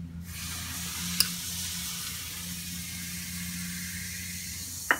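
A spoon stirs a fizzing mixture of baking soda and vinegar for red velvet cake batter. A steady soft hiss of bubbling runs throughout, with a couple of faint clinks of the utensil against the bowl.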